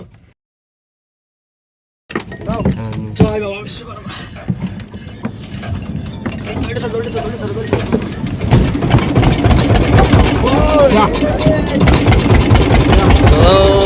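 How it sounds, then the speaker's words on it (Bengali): A fishing boat's engine on the Matla River in the Sundarbans is silent at first, then catches with a loud start and settles into a close, steady, throbbing idle that grows slightly fuller toward the end. "ইঞ্জিন স্টার্ট হয়ে গেছে"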